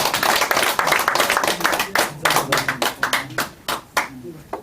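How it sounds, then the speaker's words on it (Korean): Clapping from an audience at a Korean lecture gathering, with distinct sharp claps in an uneven rhythm that thin out toward the end. Voices can be heard talking underneath. "박수!"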